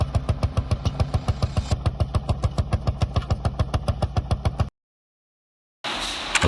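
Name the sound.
vintage engine running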